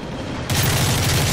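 Call of Duty Modern Warfare gameplay gunfire: after a brief quiet lead-in, a loud sudden burst of rapid automatic shots erupts and keeps going as a dense rattling barrage.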